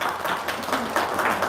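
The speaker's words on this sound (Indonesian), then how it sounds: "Tepuk tangan dong" Audience applause at a testimonial gathering, a short burst of dense hand clapping from a group at moderate distance, steady throughout with a little background voice.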